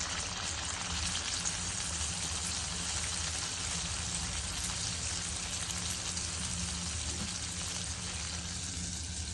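Vada batter deep-frying in hot oil in a kadhai, a steady dense sizzle and bubbling that stays even and close throughout, with no talking.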